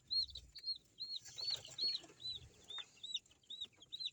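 Chicks of a Lingnan, Baret and Elba chicken crossbreed peep about a dozen times in a quick, even series, high and close, with soft rustling and faint clucks underneath.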